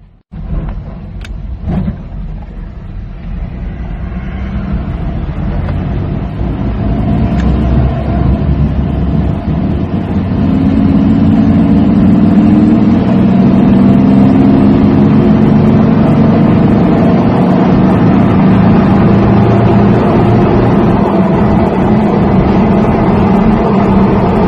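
A Nissan Frontier pickup with a rear main seal oil leak, about 162,900 miles, starts up and drives, steady engine and road noise building after the first seconds and holding loud and close throughout.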